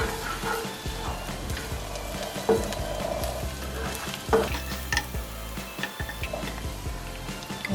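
Freshly chopped garlic fries in a pan, a soft steady sizzle broken by occasional stirring scrapes and knocks, close up and fairly quiet with no voices.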